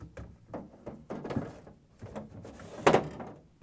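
The chiller shelf of a GE refrigerator slides into place with a series of plastic scrapes, clicks and knocks, ending in a louder clunk near the finish, close and alone.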